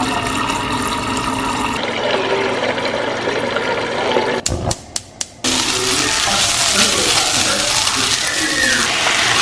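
Nopales fry in a pan with meat, onion and potatoes, giving a loud, steady, close sizzling hiss that briefly drops out with a few sharp clicks before roaring back.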